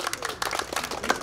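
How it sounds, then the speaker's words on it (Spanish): Audience clapping at a family Santiago festival celebration, a burst of scattered, uneven hand claps with crowd noise, fairly close and brief. "Los aplausos, por favor, fuerte."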